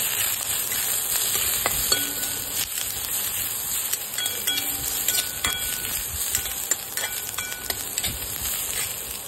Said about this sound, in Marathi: त्याच्यामध्ये आपण बारीक चिरलेला कोबी टाकून घेऊया। तिला 2 मिनिटं फ्राय करूया।